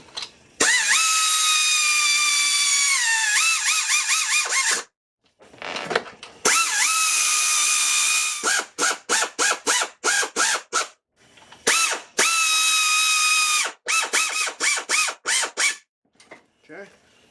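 A ratchet drives 14 mm bolts into a 2008 Acura MDX engine block: long buzzing runs of rapid clicks, then short separate bursts as each bolt seats, close and loud with no talk.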